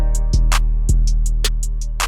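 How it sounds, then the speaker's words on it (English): A trap beat with a deep sustained 808 bass line under crisp hi-hats and claps, playing a simple bouncy repeating pattern, loud and clean with no talking. "Now I think it's pretty much time for the 808."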